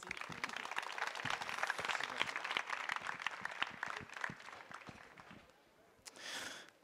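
An audience claps for an arriving speaker at a neuroeducation talk, a dense, fairly loud patter of applause that thins out toward the end, followed by a brief breathy rustle.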